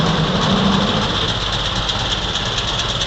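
A restored 1925 Ford Model T coupe engine runs steadily in cold weather, a continuous even mechanical drone with a faint rhythmic knock, close and moderately loud with no talking.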